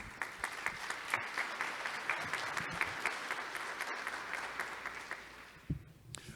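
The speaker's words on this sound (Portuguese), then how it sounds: "a salva de palmas são para vocês" An audience at a conference panel on tax reform breaks into applause, a sustained patter of many hands clapping at moderate volume with a few sharper claps standing out, easing off near the end.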